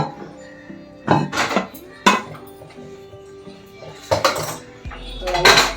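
A metal pot is set down into a pressure cooker on a low gas flame while a cake-like egg batter is baked, giving a few sharp metallic clanks and scrapes spaced apart, close and fairly loud, with a low hum near the end.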